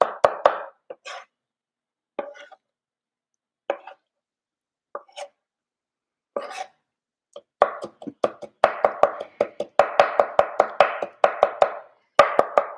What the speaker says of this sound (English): you can just get chopping away.